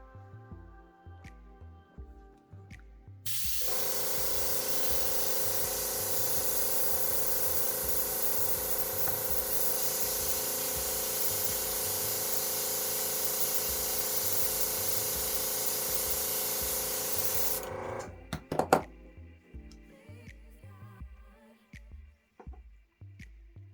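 An airbrush sprays alcohol ink onto a surface for striated flower petals, a loud continuous air hiss lasting about fifteen seconds, set between quieter stretches with soft background tones.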